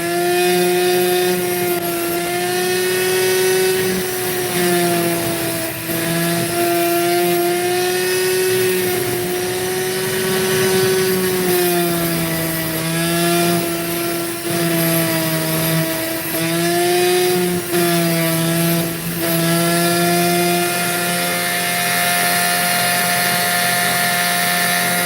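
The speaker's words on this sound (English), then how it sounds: "I'm going to have to cut through the sand layer" A saw grinds steadily through opal rock and its sand layer, a loud continuous whining drone with a wavering pitch that holds from start to finish with no talk.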